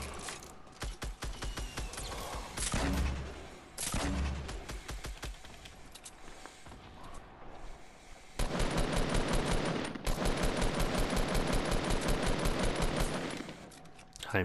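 Rapid automatic gunfire and single shots crackle in a Fortnite match, with long sustained bursts near the end, while a player talks briefly.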